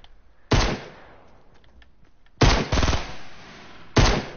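Bursts of automatic gunfire in the video game Fortnite, three loud rapid volleys separated by pauses, the middle burst longest, close and punchy with no talk over them.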